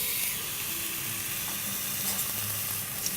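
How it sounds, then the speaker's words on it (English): Steak sizzles in hot beef dripping in a pan, a steady close hiss and crackle with no speech over it. "As you can see, the fat is on the pan. And where do you hear this sizzle?"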